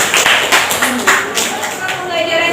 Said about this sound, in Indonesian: Berikan tepuk tangan untuk Zaki.